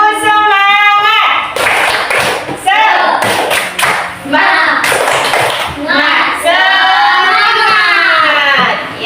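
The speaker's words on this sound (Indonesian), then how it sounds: "Tepuk semangat dulu." Primary schoolchildren in a classroom doing a rhythmic spirit clap, bursts of patterned clapping alternating with the children chanting together loudly in unison.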